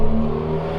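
A 2019 Subaru WRX with a 4-inch muffler delete holds a steady, droning exhaust note close by for a brief moment, with any pops hard to pick out.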